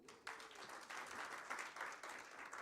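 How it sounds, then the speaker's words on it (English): Applause for the team at the Africa Fertilizer.org rebranding and website launch, a modest group clapping evenly and fairly faint, with no talking over it. "Usman, Sembe, Nora, Sharon, and Victoria, big clap for the team"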